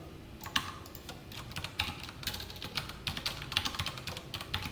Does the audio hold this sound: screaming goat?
no